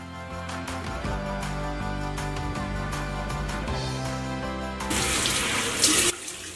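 Water runs steadily from a tap into a sink while face cleansing oil is rinsed away during a skincare routine, growing louder and splashier near the end.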